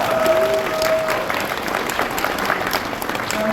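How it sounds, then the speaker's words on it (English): Expo panel audience applauding for Chris Gore, a brisk burst of many hands clapping with some cheers mixed in, close and lively, fading slightly toward the end. "Everyone clap for Chris Gore!"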